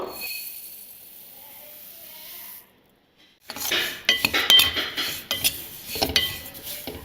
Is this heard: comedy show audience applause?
no